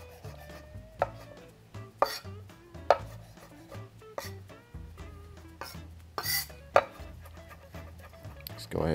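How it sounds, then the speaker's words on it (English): Mushroom stems finely chopped with a knife on a cutting board: quick irregular series of crisp knocks, close and loud, with light clatter between. "I'm just gonna go ahead and chop"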